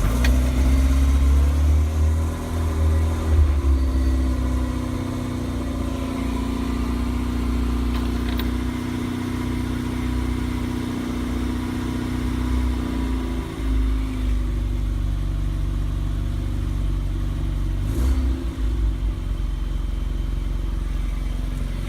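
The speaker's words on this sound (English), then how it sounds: "I'm going to do a cold start now." A 1970 Mini Countryman estate, cold after sitting a couple of days, idles steadily close by with a low, even engine hum, a small rev near the start and a brief blip toward the end.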